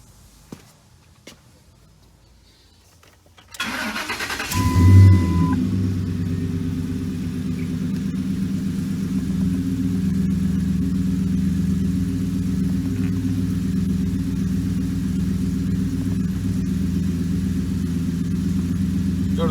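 A Ford F150 pickup with misfires and recently replaced timing chains cranks briefly after near silence, catches and settles into a loud, steady idle with a rough, uneven hum.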